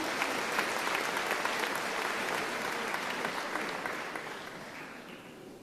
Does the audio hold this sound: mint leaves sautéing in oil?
no